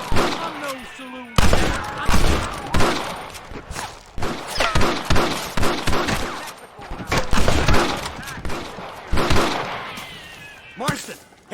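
Rapid gunfire during a shootout in Red Dead Redemption: repeated loud shots and bursts in quick succession, some overlapping, with brief pauses and voices heard between volleys.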